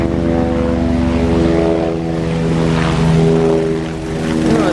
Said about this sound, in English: they've never seen a helicopter that low.